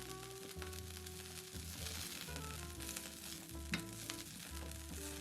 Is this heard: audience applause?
no